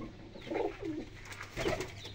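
Soft, low coos of young fancy pigeons in two short bursts, close by, over a quiet background hum.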